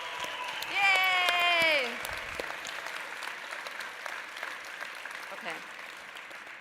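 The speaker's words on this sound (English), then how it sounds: "And we can a round of applause for the MICC staff." Applause for the MICC staff at the 20th annual gala, a room of hands clapping steadily at moderate volume. A voice lets out a drawn-out cheer early on, and a short spoken word follows later as the clapping carries on.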